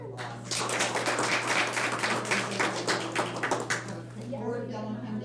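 An audience at a school board meeting bursts into close, dense clapping that lasts about four seconds, then fades into a few scattered claps.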